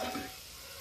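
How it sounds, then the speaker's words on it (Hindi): Masala frying in oil in a pan gives a brief, close, hissing sizzle that fades within a fraction of a second. "ये देखिए मसाला पक गया है, तेल किनारे से रिलीज हो रहा।"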